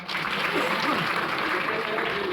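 An audience at a kirtan breaks into sustained clapping, a dense wash of applause filling the space while a voice carries on over it.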